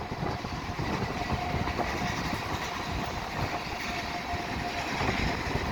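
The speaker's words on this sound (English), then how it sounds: "This will likely be a very short train" CSX freight train passing on rails on a windy day, a steady rolling rumble with faint clatter, moderately distant and continuous with no talk.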